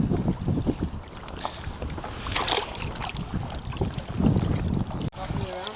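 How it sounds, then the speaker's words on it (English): Gusty wind buffets the microphone on a lake during striped bass fishing, a steady roar under boat and water noise, with brief voices now and then. "Sorry I didn't want to record a lot because it's so windy."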